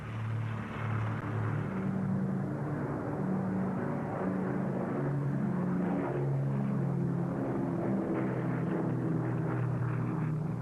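Propeller engines of a Brewster Buffalo fighter, an American-built monoplane, drone steadily at close range with a deep pulsing hum that holds throughout.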